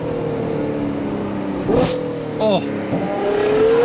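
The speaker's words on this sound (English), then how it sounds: "these Ferrari V12s are so incredible, and this downshift." Novitec-tuned Ferrari 812 Superfast V12 engine blipping through quick downshifts, close and loud, each throttle blip a sharp rising and falling wail over a steady idle drone, with a man exclaiming briefly.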